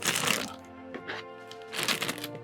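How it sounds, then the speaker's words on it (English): A sharp knife slices open the plastic packaging of a 1/1000 Polar Lights USS Enterprise model kit in two crackly, crinkling bursts. "I'm going to cut this thing open."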